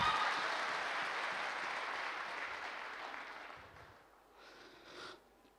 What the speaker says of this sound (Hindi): अरे ताली होनी चाहिए डायमंड है भाई साहब।